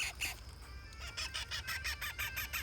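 A rooster crows near a forest tent campsite, with a few repeated crowing bursts fairly close over a steady low background.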